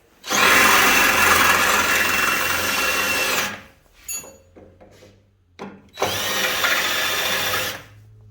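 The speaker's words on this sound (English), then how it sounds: "I'm going to drill each one again to the same thickness of what I think the metal is" A power drill whines loudly for a few seconds while drilling into sheet metal on a 1948 GMC floor and door post, stops for brief clicks and handling noises, then drills again in a second burst.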